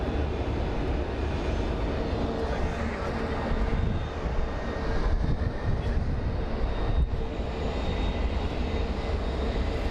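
A Boeing 777 airliner heading out on a London flight at Phoenix Sky Harbor Airport gives off a steady, distant jet engine roar and rumble that holds without break, no talk over it.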